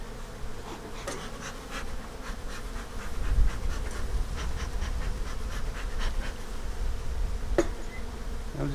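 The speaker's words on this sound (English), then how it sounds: "Look at the bees." Honey bees buzz steadily at an open backyard hive during an inspection, a dense continuous hum close by with a few louder passes of individual bees near the microphone.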